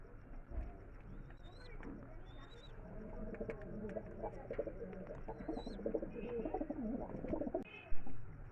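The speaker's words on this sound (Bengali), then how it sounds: "এটা হোমার পায়রা" Soft coos and calls of homer pigeons at a busy winter market, over a background of chatter and shuffling, with a few high chirps scattered throughout.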